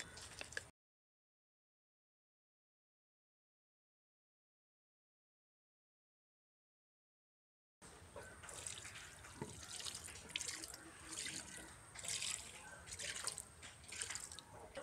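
Water is poured at the base of a garden plant after a fish amino acid fertilizer is applied, giving a steady splashing trickle that starts abruptly after a long silence and continues at moderate level with no talking.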